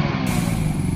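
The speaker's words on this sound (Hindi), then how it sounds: "सामने से बाइक आ रही" A Hero Splendor motorcycle engine runs steadily up close, with a continuous low, pulsing rumble and no talk over it.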